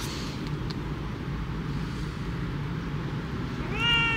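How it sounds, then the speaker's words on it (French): A cat meows faintly at the very end, a short rising cry out in freezing cold on a Seoul street, over a steady low rumble of distant traffic. "Je sais pas si c'est un chat de rue"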